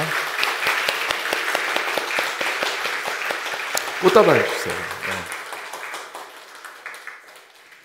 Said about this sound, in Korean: 우리 큰 박수로 환영해 주시기를 부탁드립니다